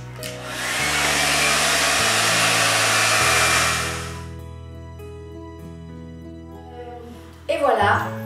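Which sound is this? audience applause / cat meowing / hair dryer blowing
hair dryer blowing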